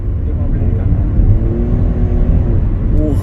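A Nissan Kicks e-Power pulling hard on a public road, heard as a close, continuous low rumble and motor whir with rising tonal layers that stay strong throughout.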